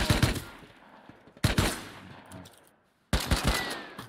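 Rapid bursts of video game gunfire in a multiplayer shooter at a sheet bunker, three loud volleys separated by short pauses, with no talk over them.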